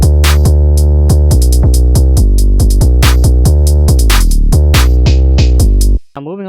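The first 808 pattern of a futuristic trap beat thumps in quick rhythmic bass hits layered with crisp percussion, including a downward pitch glide midway. It is loud and alone, then cuts off sharply before a brief faint tail.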